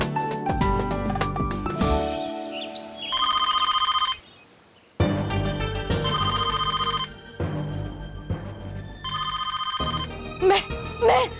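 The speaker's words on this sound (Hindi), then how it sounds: "महर का फोन होगा" A telephone rings in repeated bursts of bright electronic trilling, loud and close, with pauses between the rings and other sounds between them.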